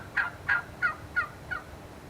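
A wild turkey gobbles five times in quick succession, each call a sharp rattling burst, fairly close and clear against quiet outdoor background.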